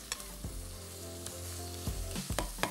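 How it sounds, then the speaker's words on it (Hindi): Mushrooms frying with shrimp, beef or chicken mince in a pan, a steady quiet sizzle broken by a few sharp stirring scrapes, heard close with no voices. "ताकि मशरूम भी फ्राई हो जाए और झींगे का जो कीमा है, या गाय के गोश्त का या चिकन के कीमा जो है, वो अच्छी तरीके से फ्राई हो जाए"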